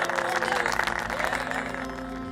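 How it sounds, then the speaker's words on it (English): Loud, sustained applause from a large crowd, dense clapping that stays steady throughout with no pauses. "The Yadavas supported him with a thundering applause."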